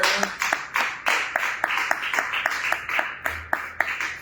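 A congregation at a Friday prayer service claps in steady unison, roughly three to four sharp claps per second, fairly loud and close, with no talking over it.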